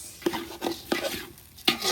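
Rice stir-fried in a pan for a festive dish, with chicken and meat already cooking in it: four sharp scraping stirs at an uneven pace over a soft sizzle, close and alone.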